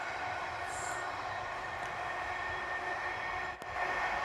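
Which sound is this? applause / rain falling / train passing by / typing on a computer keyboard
train passing by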